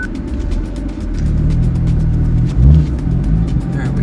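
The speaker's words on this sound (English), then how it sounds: "we hear the exhaust" A BMW M4 exhaust as the car pulls away and accelerates, a close, rumbling engine drone that builds and surges in a brief rev partway through.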